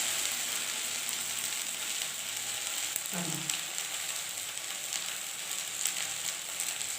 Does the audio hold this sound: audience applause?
no